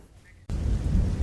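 Rain and thunder over Dhakha village in Dhanera, Banaskantha: after a quiet start, a sudden loud burst of heavy, dense rain with a deep thunder rumble fills the rest of the moment, close and steady.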